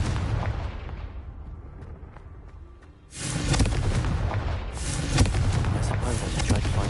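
In the Hogwarts Legacy video game, a Confringo spell suddenly lets off a loud, rumbling burst that breaks vases, following a quieter stretch, and the blast's roar and debris persist for several seconds.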